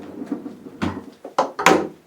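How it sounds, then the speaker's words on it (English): A pull-out shelf on pocket door slides in a bathroom storage cabinet, giving a few short sliding rolls and knocks that build to a louder final clack, close and alone. "So I did a pull-out"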